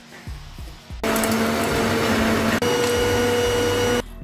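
Electric hand mixer beating butter and sugar for a marble butter sponge cake: soft bumps, then a loud, steady motor whir for about three seconds before stopping, with no talking.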